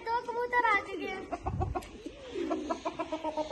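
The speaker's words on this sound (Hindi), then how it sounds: "ये बड़ा मुर्गा आ गया।" Birds cluck and call close by, with a rooster and pigeons among them and a low thump in the middle; a person talks in Hindi-Urdu over part of the sounds.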